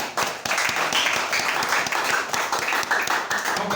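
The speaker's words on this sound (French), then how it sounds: "Acclamez très fort." A church congregation claps loudly and steadily throughout, a dense, continuous wave of applause filling the space, with a few voices mixed in.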